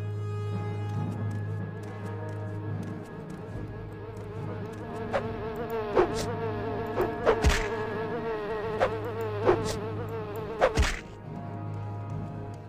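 Buzzing bees in the video game Morrowind drone steadily and fairly loudly, with several sharp thwacking hits scattered through the middle of the stretch.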